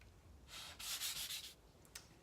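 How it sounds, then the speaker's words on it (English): Sanding strokes on a surface during a home cleanup project, a few quiet scratchy rubbing passes close by with brief pauses between them, and no voices. "I sanded it."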